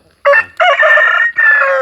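A fighting rooster crows loudly and close in one drawn-out cock-a-doodle-doo, broken into three strained segments with no other sound.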